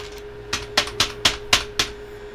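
Six sharp, evenly spaced key clicks from a computer keyboard with a faulty, hard-to-press tab key, close and fairly loud over a faint steady hum, no talking.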